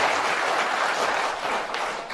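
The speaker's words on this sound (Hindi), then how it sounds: "तो एक बार जोरदार तालियां होना चाहिए आप लोगों के लिए।" Audience at a seminar breaking into applause, a dense, loud burst of many hands clapping that stays steady for a couple of seconds before easing slightly.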